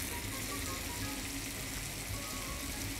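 Prosciutto crisps in hot oil in a pan, a soft, even, continuous sizzle heard close and fairly quiet, with no voices.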